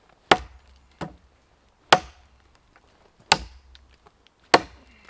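Condor Bushcraft parang chopping into a piece of not very fresh wood: five sharp, loud, close chops at irregular intervals, each a hard woody thwack with a short ringing decay, and quiet between strikes.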